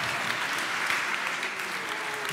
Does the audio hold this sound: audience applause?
yes